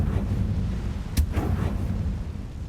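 A Confringo fire spell explodes in Hogwarts Legacy, one sharp blast near the middle cutting through a steady low rumble of game ambience, with a softer burst following.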